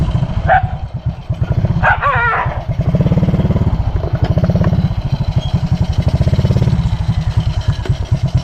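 A dog barks in short bursts, close and loud at first, while a motorcycle engine drones steadily near a highway.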